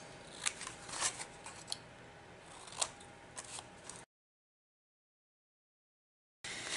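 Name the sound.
scissors cutting off paper pieces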